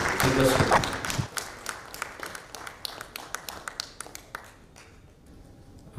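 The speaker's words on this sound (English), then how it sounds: "please, with a good round of applause" Applause for panel speakers at a conference on smart cities, starting as a brief burst of group clapping under a voice, then thinning to sparse, distinct single claps that taper off.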